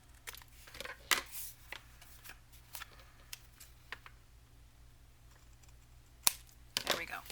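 Paper being cut with scissors to make journal tags, a run of short, sharp snips and crisp rustles spread irregularly over several seconds, louder bursts near the end, close to the microphone.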